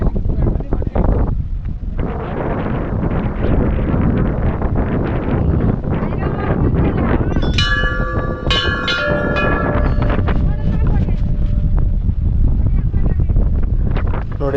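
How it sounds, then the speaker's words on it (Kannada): Strong mountain wind roars at the Bhairav temple above Kedarnath, a loud, steady broadband rush with gusts that never lets up, while voices talk beneath it and a few brief tonal notes ring out midway. "ಇಲ್ಲಿ ಎಷ್ಟು ಗಾಳಿ ಬೀಸ್ತಾ ಇದೆ ಅಂತಂದರೆ ನೋಡ್ತಾ ಇದ್ದೀರಾ"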